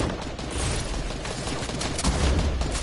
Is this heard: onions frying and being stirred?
no